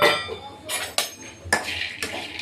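Peanuts poured into a pan on the stove, a few close clattering impacts and rattles of nuts hitting metal in quick bursts.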